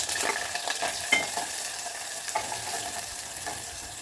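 Onions frying in a little hot oil in a pan, a steady close crackling sizzle with soft stirring scrapes over a few seconds.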